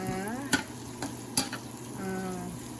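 Garlic seasoning simmers in a pan with a steady sizzle, broken by a few sharp clicks and taps of a utensil being stirred against the pan.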